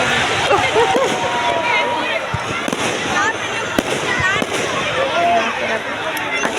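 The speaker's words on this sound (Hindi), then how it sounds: "यहाँ पर अब आतिशबाजी स्टार्ट हुई है" Fireworks crackle and pop continuously in a dense, loud barrage at a Ravan Dahan event in NTPC Vindhyanagar, with a crowd murmuring underneath.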